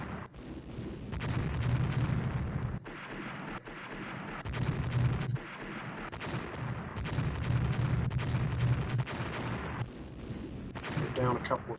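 Naval gunfire in the warship strategy game Rule the Waves, a dense, continuous rumble of heavy booms and crashing impacts with recurring low thuds, loud and sustained across the whole stretch.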